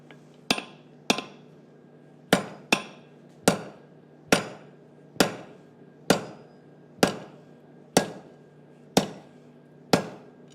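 A hammer strikes hot metal on an anvil during a blacksmith forging session: eleven sharp, ringing blows spaced about a second apart, close and crisp, with a faint steady hum behind them.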